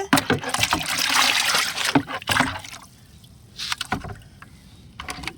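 Fertilizer mixed with water is stirred in a container for potted plants, giving close, loud sloshing and swirling splashes that ease off into scattered drips and smaller splashes.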